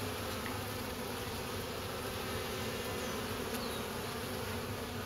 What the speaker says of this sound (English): their wings are flapping like crazy. They're just buzzing, but just standing right there.